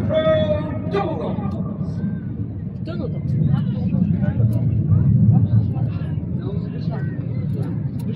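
Red Arrows jets fly the Synchro Double Dots manoeuvre at an air display, a broad roaring rush of jet noise that swells and holds steady, with a commentator talking over it throughout.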